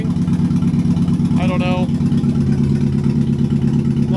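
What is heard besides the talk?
car engine running after misfire repair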